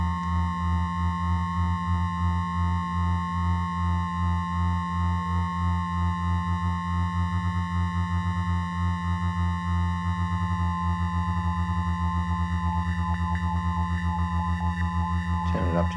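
An ArcSyn synthesizer holds a steady sine tone whose pitch is gently wobbled by an LFO, sustained and even for the whole stretch with a faint rhythmic pulsing and no voices.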